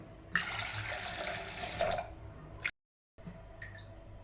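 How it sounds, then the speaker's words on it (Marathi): Water pours and splashes into a metal pressure cooker holding dal for a couple of seconds, stops briefly, then a few soft drips and trickles follow. "डाळ शिजण्यापुरतं पाणी टाकूया"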